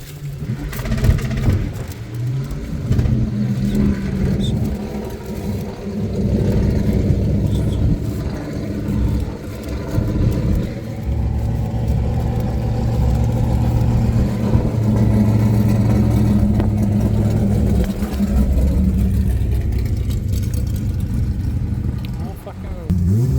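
Turbocharged big-power DSM car pulling hard in first gear at a track, a steady loud engine drone that rises and holds for a long stretch before easing, with people talking over it.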